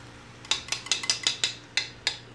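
Eggs going into a 12-inch frying pan for a giant omelet: a quick run of about eight sharp, close taps and clicks of utensil against pan or bowl, with no talk.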